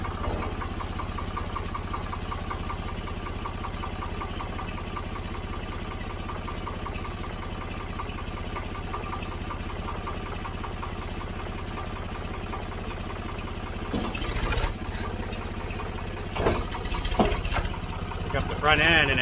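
Tractor loader engine running steadily as it reverses and raises the bucket, a loud constant idle-like drone with clanks near the end.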